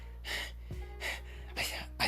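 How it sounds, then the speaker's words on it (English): Cartoon character panting heavily after running into a forest, rhythmic breathy gasps in quick succession, fairly close, over a low steady hum. "He's panting."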